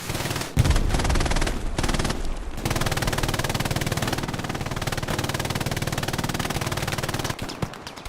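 Machine gun firing in the World War II shooter Hell Let Loose during a D-Day battle, long loud sustained automatic bursts broken by a few brief gaps.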